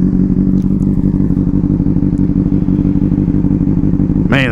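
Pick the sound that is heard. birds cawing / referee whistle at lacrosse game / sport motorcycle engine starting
sport motorcycle engine starting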